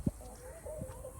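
A chicken from a small farmhouse flock gives a few soft, close clucks, a brief sharp note followed by quieter murmuring calls.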